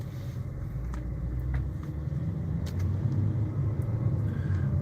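Steady low road rumble from a car driving along as traffic begins to flow after clearing a light, with a continuous engine and tyre drone throughout and no talking.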